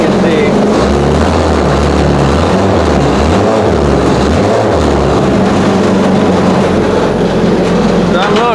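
A small engine in a homemade mini jet boat revs up and settles while the boat sits out of the water, giving a loud, steady droning roar with rising and falling pitch as the throttle opens and closes.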